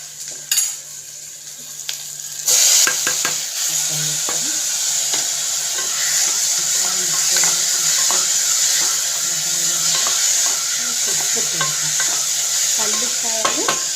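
Tomatoes fry in a pan, sizzling steadily with bursts of stirring and utensil scrapes against the pan, close and continuous with no talking.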